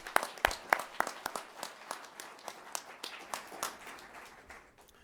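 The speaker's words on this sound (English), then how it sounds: "please join me in giving a round of applause for his contribution." Small-room applause for a NASA Honor Awards recipient: a handful of distinct, close hand claps ringing out in a loose rhythm, gradually growing quieter and sparser until they trail off.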